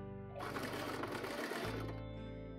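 A sewing machine stitches tapestry fabric for a skirt in a short, steady close-up run, pausing briefly before the motor resumes.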